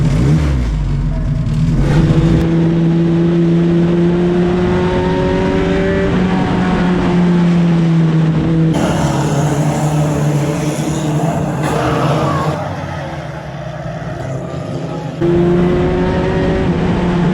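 Race cars at Cowdenbeath Racewall roar past continuously, loud and close, with engines climbing and falling in pitch as they accelerate and lift around the oval, one sustained wall of engine noise with no clear voices.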